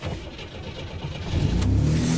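A Buick Grand National, a barn find being driven for the first time in 15 years, idles roughly and then revs up, its engine growing louder and deeper partway through.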